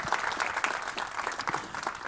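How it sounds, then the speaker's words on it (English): Conference audience clapping after a live software demo, a fairly close, continuous round of applause with individual claps standing out. "Let's get a round of applause for that demo"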